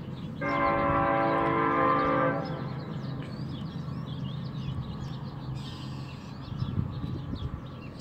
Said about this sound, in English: There's that train, you guys.